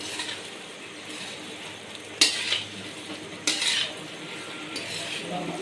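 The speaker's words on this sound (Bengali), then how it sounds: "বুটটা দেওয়ার পর ভালো করে মশলার সাথে নাড়িয়ে চাড়িয়ে নিতে হবে।" Boiled chickpeas being stirred with fried spices in a pan for ghugni, a steady soft sizzle with a few sharp scrapes of a spoon against the pan, no talk.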